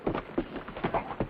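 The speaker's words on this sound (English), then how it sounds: "That's Kate's horse." Hooves clip-clop in a quick, uneven rhythm on hard ground, moderately close, with no voices.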